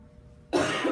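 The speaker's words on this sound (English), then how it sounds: "I can't stop coughing." A single sharp cough from a person with bronchitis bursts in halfway through after near silence, loud and close, with a harsh breathy rasp.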